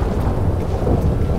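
Heavy rain and a thunderstorm in the GTA 5 video game, a dense steady roar of rainfall with deep rumbling thunder underneath, loud and continuous with no talking.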